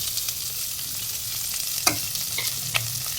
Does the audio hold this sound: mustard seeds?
yes